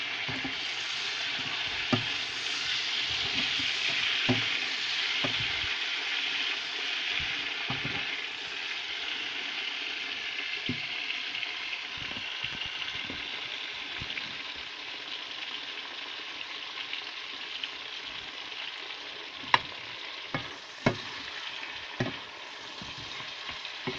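Pork and broccoli sizzle and crackle in a hot pan while being stir-fried, a steady frying hiss throughout with occasional scraping clicks of a utensil against the pan.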